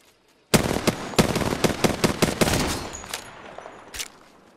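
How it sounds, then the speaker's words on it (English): Automatic gunfire in the battle royale game Apex Legends, a loud close burst of rapid shots in quick succession that trails off, ending with one final isolated shot. "Opening fire on the enemy."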